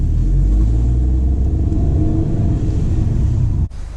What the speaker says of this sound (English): Right, that's the sound of the engine then.